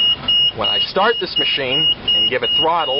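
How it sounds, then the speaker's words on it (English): A steady, high-pitched low-pressure warning beep from a Cat 631B water wagon sounds continuously beneath someone talking close to the microphone. "Now that beeping noise you hear is letting me know that I have low PSI."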